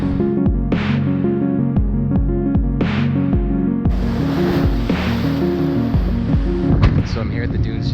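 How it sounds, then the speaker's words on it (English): Heavy ocean surf near Silver Lake on the Lake Michigan shore, with a loud, continuous roar of breaking waves and rushing water that swells in repeated surges, close and filling the whole scene. "the waves are incredible"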